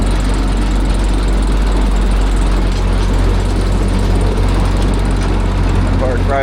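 A 1947 Ford 8N tractor chugs steadily across a yard toward a shade tree, its low engine drone loud and constant from start to finish; speech is faintly audible near the end.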